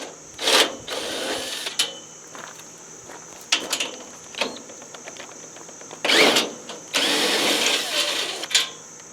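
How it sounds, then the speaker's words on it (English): A power drill used in bike work spins in short, repeated bursts of whirring with pauses between, close by in a workshop setting. "I like to keep loosening up my drill."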